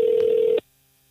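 A single steady telephone tone sounds loud and close for about half a second during a phone call on a radio show, then cuts off abruptly into near silence.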